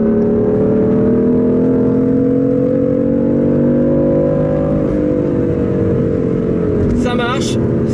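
A BMW engine revs hard toward a 7600 rpm redline, a loud sustained harmonic drone that climbs and holds steadily close by, with a brief higher whine near the end and no clear talk over it.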